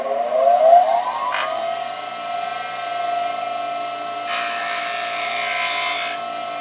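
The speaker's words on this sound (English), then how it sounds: "So I'm going to take this to the grinder right now." A bench grinder spins with a rising then steady high whine, and a Stanley No. 5 plane iron is pressed against the wheel, making a bright, hissing grind in the latter part, close and without talk.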